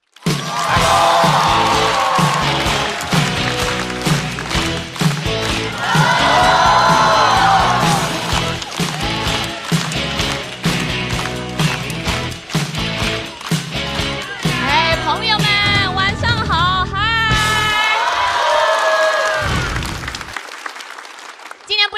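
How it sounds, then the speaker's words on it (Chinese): An audience at a stand-up comedy show applauds and cheers as a comedian takes the stage, a loud, sustained wash of clapping and whoops mixed with music and a speaking voice. "掌声有请"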